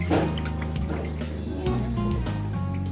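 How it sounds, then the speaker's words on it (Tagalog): Condensed milk being stirred together with other ingredients for a jelly cake made with Fudgee Bar Vanilla, giving close wet squishy mixing sounds with faint drips over a steady low hum. "Para maghalo yung condensed at saka iba."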